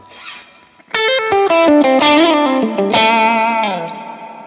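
Electric guitar played through a Hot Cake overdrive pedal, a short boosted, distorted phrase of bright sustained notes after a faint lead-in, loud and alone.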